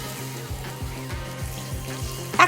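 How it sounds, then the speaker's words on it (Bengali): Small mourola fish frying in a pan of oil, giving a steady moderate sizzle with a low repeating hum underneath and a brief louder splash near the end, with no voices. "এখন এই তেলের মধ্যে আমি বাকিগুলোকে সেমভাবে ফ্রাই করে নেব"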